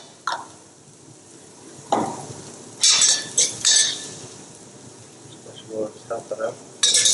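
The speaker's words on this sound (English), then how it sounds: "So first things first, we want to get the ginger and garlic in there. Stir fry that up." Ginger and garlic being stir-fried in a hot pan as seafood cooking begins, with a steady close sizzle broken by bursts of scraping and stirring and a few utensil clinks.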